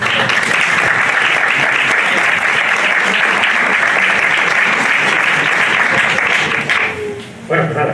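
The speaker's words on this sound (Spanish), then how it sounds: "Fuerte aplauso." A lecture audience gives loud, dense applause that holds steady for several seconds, then thins and dies away near the end.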